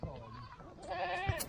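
Himalayan goats in a mountain forest flock bleat with a faint, wavering, nasal call rising near the end, heard at a distance over low background murmur.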